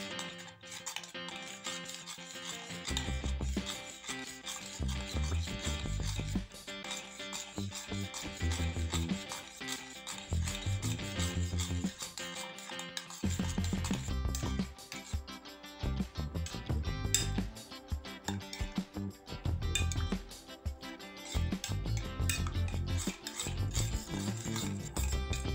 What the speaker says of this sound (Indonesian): kemudian kita aduk merata lagi